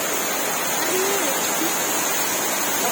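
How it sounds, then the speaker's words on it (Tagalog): Heavy rain in the Philippines roars in a loud, constant wash of broadband noise, steady and unbroken throughout. "Ang lakas ng ulan."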